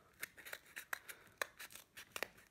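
Scissors make a run of quick, crisp snips close up while trimming craft material for a model creature's eye, about ten cuts in an uneven rhythm.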